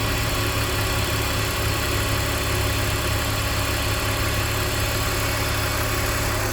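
A BMW 325xi idles right after a cold start, giving a loud, steady, close engine drone with constant vibration and no talking.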